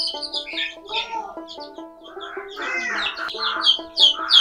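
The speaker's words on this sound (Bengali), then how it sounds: "এই যে দেখতে পারতেছেন যে মুরগির বাচ্চা কত সুন্দর ব্রুডিং হয়েছে" Native chicken chicks in a brooder give a close chorus of high, rapid peeping and cheeping, overlapping calls continuing throughout with no voices.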